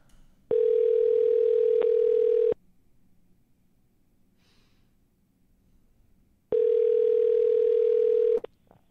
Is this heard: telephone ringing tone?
yes